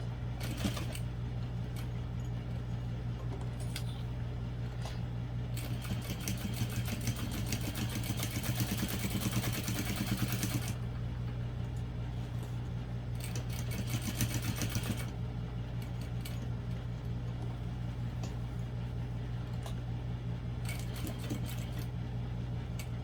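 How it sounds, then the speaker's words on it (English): A sewing machine stitches steadily around the boxed base of a purple and teal barrel bag, its motor whirring in long continuous runs with brief pauses and a clicking rhythm between. "I'm just going to sew all the way around this box."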